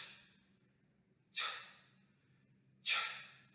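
Two sharp, forceful exhalations during a martial arts drill, each a sudden breathy burst that trails off, about a second and a half apart against a quiet low hum.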